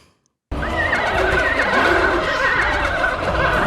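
Trumpet imitating a horse whinny with a half-valve effect, as in Sleigh Ride: a loud, close, wavering whinny-like bray sustained for about three seconds after a brief silence.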